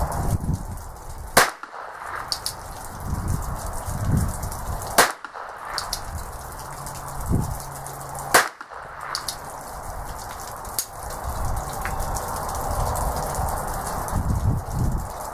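Three sharp, isolated shots from a North American Arms Mini Mag revolver firing .22 Long Rifle outdoors. The cracks come several seconds apart over steady gusting wind noise, with no talk.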